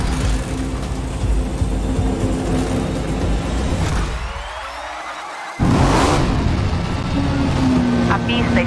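Race car engine in Forza Motorsport on Xbox Series X, a loud steady roar that dips briefly then surges back with a sharp rev, under a voice talking.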